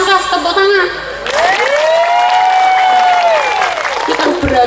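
An audience claps at a live outdoor Islamic sermon gathering in Sumursongo, Karas, Magetan, while a singing or chanting voice with sustained tones rises over the continuous crowd noise.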